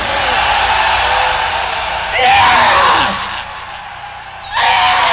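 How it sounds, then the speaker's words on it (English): A metal concert crowd at a 1985 live show screams and yells in a loud, sustained roar filling the hall, swelling in bursts and easing briefly before surging again. "I want to hear you fucking scream"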